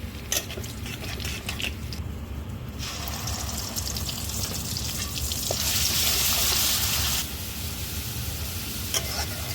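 Masala cooks down with onion and garlic paste, a low background sizzle that swells into a brighter, louder hissing spell for several seconds before settling again.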